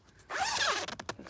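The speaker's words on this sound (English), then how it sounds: "Again, we can unzip this." A zipper is pulled open along the outer green layer door of a Vango Tryfan 300 tent, a close, steady rasping run of under a second, followed by a few short tugs and clicks.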